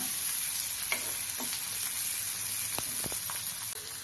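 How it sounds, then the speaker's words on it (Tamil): Onions sauté in oil on top of popped mustard seeds, giving a bright, continuous sizzle close to the listener, with occasional scrapes and taps from stirring and no talking. "கடுகு பொரிஞ்சுடுது வெங்காயம் சேர்த்துக்கலாம் வெங்காயம் ஒரு நிமிஷம் வதங்கட்டும்"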